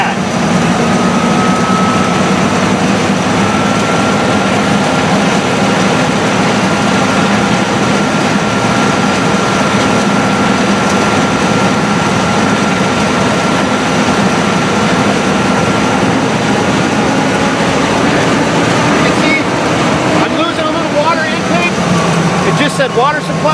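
Fire pump engine running under pressure on a water supply, a loud continuous mechanical drone with steady tones throughout, a faint shift near the end as it drops back to a stable pressure.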